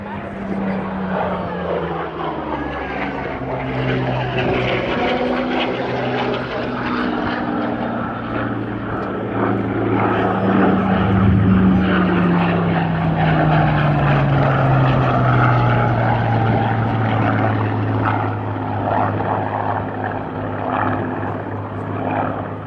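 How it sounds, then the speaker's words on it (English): Hawker Hurricane fighter flying a display at the Southport Air Show, its loud propeller engine drone rising and falling with a Doppler pitch drop as it passes near, while a commentator talks over it. "Hurricane, certainly one of the classic fighters of all time, designed and built for war"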